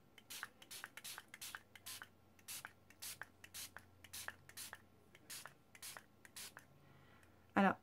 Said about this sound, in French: je vais venir vaporiser